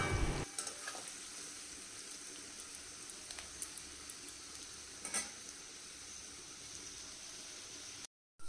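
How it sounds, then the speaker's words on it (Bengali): Vegetables frying for rice in a small wok, a steady broadband sizzle throughout with a few sharper crackles and spatters, close and moderately quiet, cutting off abruptly near the end. "এই ছোটো কড়াইটা চাটনি করেছিলাম সেই কড়াইটা ধুয়ে নিয়ে তারপরে এই সবজিগুলো, রাইসের জন্য সবজিগুলো ভেজে নিচ্ছি।"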